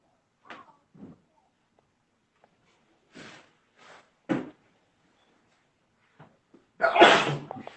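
A single sharp sneeze bursts out near the end, loud and close, after a few quiet shuffles and small knocks in an otherwise hushed room.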